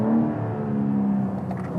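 A BMW M3 or M4 engine revs hard to the red line during a delayed upshift, giving a sustained, fairly loud mechanical drone with a steady low tone.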